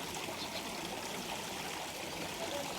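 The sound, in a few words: small waterfall trickling into a fish pond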